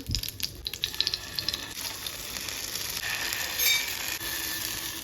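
Coriander and curry leaf paste dropped into hot oil in a pan, starting with a few crackling pops and then settling into a steady, bright sizzle that swells slightly and continues.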